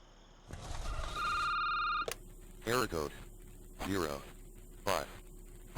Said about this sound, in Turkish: Hop telefon çaldı.